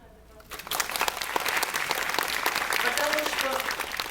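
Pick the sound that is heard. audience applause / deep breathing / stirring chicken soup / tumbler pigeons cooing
audience applause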